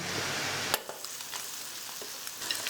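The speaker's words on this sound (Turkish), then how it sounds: "Soğan ve kıymayı kavurmaya devam edeceğiz." Onions and minced meat sizzle in a pan over medium heat with a soft hiss, a brief stir or scrape breaking the steady frying noise, quiet and close.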